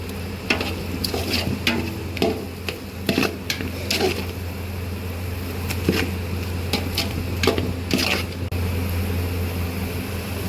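Veg biryani masala is stirred in a pot with a spoon, giving irregular scraping clinks against the metal over a steady background sizzle of frying, with no talking.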